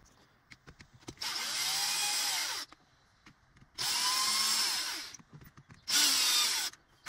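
Power drill backing out four small screws, three separate whirring bursts of a few seconds each with short quiet gaps between, close and loud, no talking.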